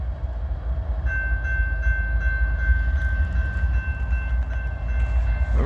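A train rolls past on the line between Abbeville and Greenwood, a loud, steady low rumble of railcars with a sustained high tonal ring running alongside it throughout.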